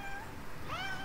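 A house cat gives a single rising meow close by, fairly faint over a low background hum, drawn out near the end.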